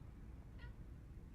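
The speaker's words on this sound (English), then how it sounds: "That cat's glitching out." A glitching cat in the video game The Stanley Parable gives one brief, faint meow over a low background hum.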